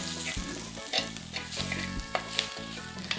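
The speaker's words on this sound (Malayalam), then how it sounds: "ഇതെല്ലാം കൂടി ഇട്ടൊന്ന് നന്നായിട്ട് തീ കുറച്ച് വെച്ചിട്ട് പതുക്കെ ഇളക്കി മൂപ്പിക്കണം" Steady oil sizzle and frying crackle of spices stirred slowly over low heat in a hot clay pan, with occasional scraping clinks of a spoon, no voices.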